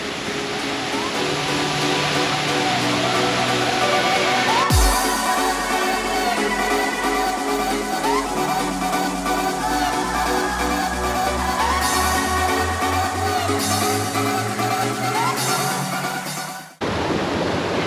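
A waterfall on Réunion island roars as a loud, steady broadband rush that fills the whole clip.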